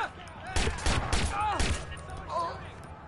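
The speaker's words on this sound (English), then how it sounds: "Someone's shooting!" Bursts of gunshots in a video game: a loud volley partway through, then a calmer stretch, with voices and game sounds mixed in.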